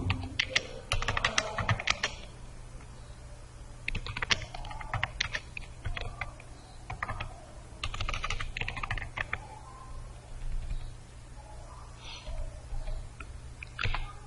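Steady typing on a computer keyboard while writing ASP.NET MVC code, with quick bursts of clicky keystrokes and short pauses over a low constant hum, close and moderately quiet.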